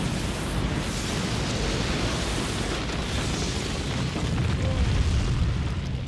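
Fire and wind style jutsu explosion in Naruto Ultimate Ninja Storm Revolution, a dense, steady roaring blast that fills the whole clip without letting up, loud and rumbling with a broad hiss over it, lifting a little toward the end.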